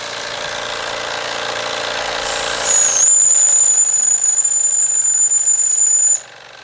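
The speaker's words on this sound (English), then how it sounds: "The horizontal Bing engine running like a treat for the first time under steam since I rebuilt it." A rebuilt early-1900s German Bing horizontal model steam engine runs under steam with a steady mechanical hum, joined halfway through by a sustained high-pitched whistling tone that stops abruptly near the end.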